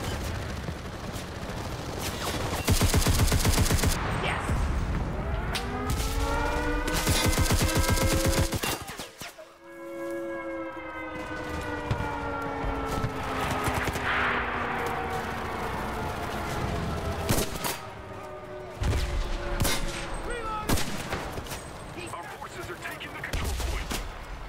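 Enemy panzer tank cannon firing in the WW2 shooter Enlisted, heavy booms and gunfire bursts amid constant battlefield noise, with a voice speaking over the combat.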